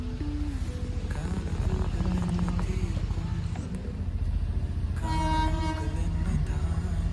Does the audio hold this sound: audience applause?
no